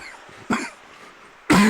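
A hockey game commentator coughs twice, a short cough followed by a louder, harsher one about a second later, close to the microphone over faint background arena noise.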